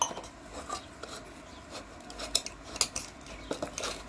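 Gulab jamun dough is mixed in a bowl. A spoon scrapes and clinks against the bowl in irregular, close taps and rubs, fairly quiet, with no talking.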